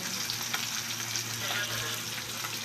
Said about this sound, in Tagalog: Parang palpak yung pagprito ko ng tilapia